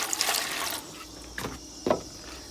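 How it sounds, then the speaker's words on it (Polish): Water is poured into a mixing container on a renovation site, a close, splashing trickle that comes in short bursts with brief pauses. "Nalać sobie troszeczkę wody."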